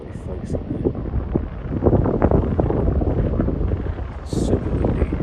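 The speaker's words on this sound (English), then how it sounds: "Super windy." Strong wind buffets the microphone on a hilltop lookout at night above Bunbury, a steady rumbling gust-driven roar with a few brief higher rustles.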